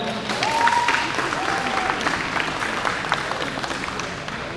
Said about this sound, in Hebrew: הורים, תראו איזה מקסימים הם, לא מגיע להם כפיים.